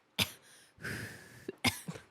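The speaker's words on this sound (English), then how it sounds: "it's something that's making you cough" A few sharp, close coughs, spaced apart with breathy exhalations in between, in an otherwise quiet room.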